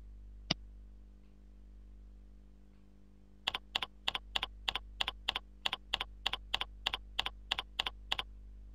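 A username being typed on a computer keyboard: a single click, then a quick, even run of about sixteen crisp keystrokes, close and clear over a quiet hum, with no talk.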